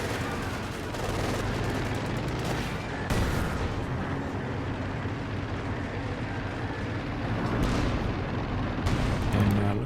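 Calliope rocket artillery pounds a position in Company of Heroes 2, heard as a continuous barrage of booming impacts and crackling gunfire, with louder bursts near the start and end.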